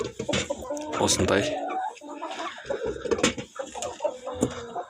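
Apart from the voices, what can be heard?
chickens clucking in a coop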